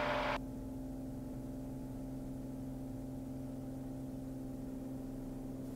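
A light aircraft engine drones in a steady, tonal hum during the takeoff roll, with a brief louder burst at the very start before the constant engine note settles.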